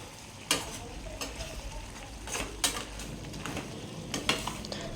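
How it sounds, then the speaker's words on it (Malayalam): A thickened egg curry bubbles in a pan under a low sizzle. Several sharp clinks and scrapes of a spoon against the pan break in at irregular moments, with no voices. "കറി നല്ല തിളച്ച് കുറുകി വന്നിട്ടുണ്ട്"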